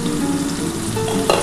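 Food frying in a pan over a low gas flame gives a steady close sizzle, with a faint stirring scrape and a quick clink at the end.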